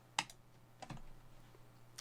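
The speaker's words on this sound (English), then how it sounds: "start typing in the names of your group." A few sparse keystrokes on a computer keyboard, sharp light clicks separated by pauses against a quiet background hum.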